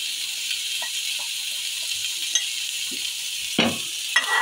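Ground red chilli, turmeric, Kashmiri chilli, cumin and pepper powders sizzle in a hot pan for a kochu shrimp dish, a soft steady frying hiss punctuated by a few scraping stirs and clinks.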